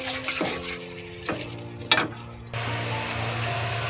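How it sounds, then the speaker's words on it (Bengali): Potatoes frying and being stirred with spices in a pan for a mutton curry, a steady close sizzle with a few scraping stirs and a brief clatter partway through, no talk. "খুব ভালো করে মশলার সাথে কষিয়ে নেবো আলুটাকে"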